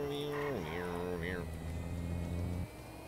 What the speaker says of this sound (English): Car sounds so flaccid.